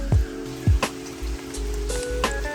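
Rain falls on a deck during pressure washing, with steady patter under a few low thumps and scattered sharp drips nearby.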